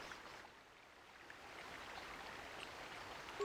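Rain in a Star Wars video game set on Dantooine: a soft, steady hiss of falling rain, faint and even throughout, with no voices.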